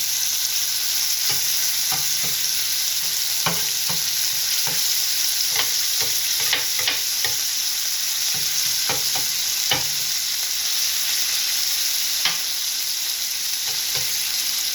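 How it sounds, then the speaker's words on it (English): Loud continuous sizzle on a hot Steelmade griddle, broken by repeated sharp metallic scrapes and taps as ground beef is chopped like cheesesteak meat, irregular in rhythm. "I'm going to start chopping into it"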